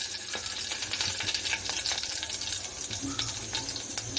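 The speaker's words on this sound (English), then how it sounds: "Now the curry leaves are fried." Curry leaves fry in a pan over low heat for South Indian sambhar, giving a steady, close sizzling hiss with small crackles and pops throughout, without any talking.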